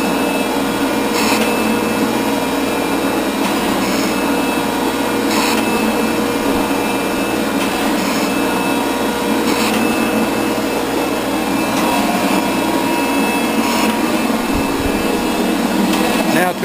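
A milling machine cutter runs steadily during repair of a milling vise, a loud continuous machining drone with periodic rhythmic bursts and grinding texture throughout.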